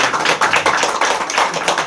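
Applause from a church congregation during a sermon at a worship service, a dense, steady clatter of many hands clapping close by, with no talk over it.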